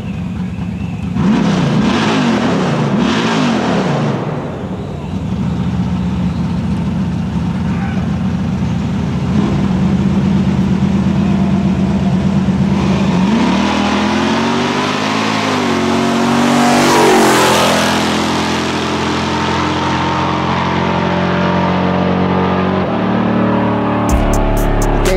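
A Camaro and a supercharged Mustang launching in a street race, engines roaring loud as they accelerate hard, the sound surging and fading into the distance before swelling again as the cars pass, with no speech.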